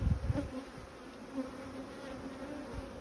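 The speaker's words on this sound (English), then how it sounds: "wasps are an issue." Close wasps buzzing around a beehive, a steady droning hum with passing louder buzzes, some faint handling knocks at the start.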